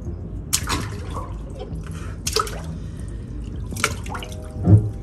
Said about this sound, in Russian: теперь у меня ванна с содой